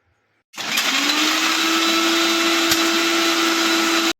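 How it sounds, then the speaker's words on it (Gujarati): After a short silence, a kitchen blender starts up and whirs loudly at a steady high pitch, grinding chocolate with sugar and milk for a shake, continuous and close until it stops abruptly. "પછી પીસી લઈશું."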